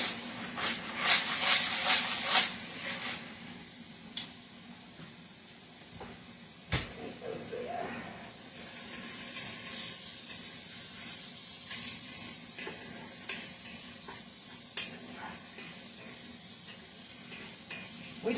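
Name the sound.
onions cooking in a pan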